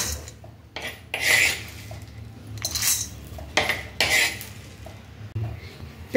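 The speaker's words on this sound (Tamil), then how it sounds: "இதையும் நல்லா வறுத்துறலாம்." A spoon stirring and scraping cumin and dried red chillies as they dry roast in a metal pan, with several bright clattering scrapes and clinks at irregular intervals, close and moderately loud.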